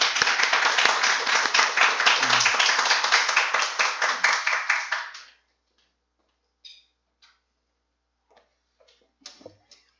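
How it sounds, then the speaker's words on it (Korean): A church congregation claps to welcome a speaker, rapid dense handclaps ringing out loudly for about five seconds, then stopping abruptly, leaving near silence with a few faint scattered knocks and rustles. "우리 박수로 환영하겠습니다."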